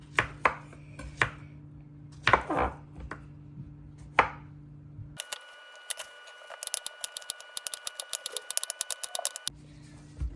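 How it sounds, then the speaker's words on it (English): Knife chopping cucumbers on a cutting board while making kimchi, a run of sharp, fairly close taps; a few scattered cuts first, then after a pause a quicker, steadier chopping rhythm. "after you guys are done chopping up your cucumbers"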